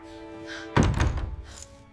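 A stuck door being pushed: one heavy thunk followed by a short rumbling rattle, close and fairly loud, with a faint background tone.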